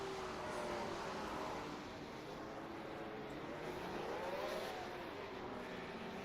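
Engine of a 1967 Formula 1 race car at the Zandvoort circuit, a steady droning roar with rising and falling pitch as it shifts up through the gears, fairly faint and continuous.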